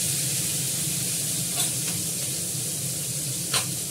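Pumpkin pieces sizzle steadily in a hot pan, a continuous close frying hiss with a couple of sharp scraping stirs of a spatula, no voices.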